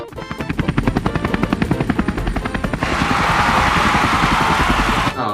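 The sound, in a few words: drone helicopter of the Perseverance Mars rover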